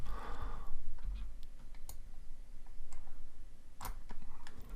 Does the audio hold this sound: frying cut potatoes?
no